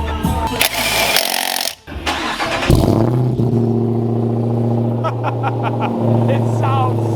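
A Jeep fitted with a Hellcat engine roars and revs loudly nearby, then settles into a deep, lumpy, burbling idle, with a few brief voices speaking over it.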